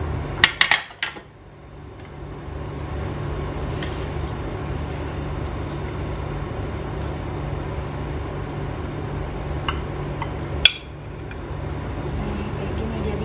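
Ceramic dishes clink sharply a few times while oven-baked Arabic lamb kofta is plated: a quick cluster of clatter near the start and one lone knock later, over a steady low room hum.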